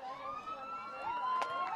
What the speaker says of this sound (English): And there is the final siren here in the fourth quarter.